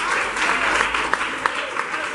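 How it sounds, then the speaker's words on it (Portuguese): A church congregation applauds during a Wednesday worship service, a steady wash of many hands clapping at close range with a few sharper individual claps standing out. "Aplauda o Senhor pela vida do pastor Sérgio"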